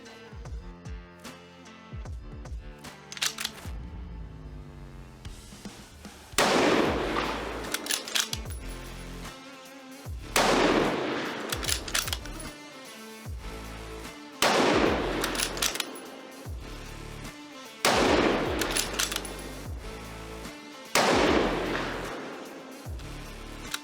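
A Ruger Precision Rifle fires Hornady ELD Match rounds outdoors, with five loud, sharp shots spaced a few seconds apart, each followed by a long rolling echo and quieter handling sounds between shots.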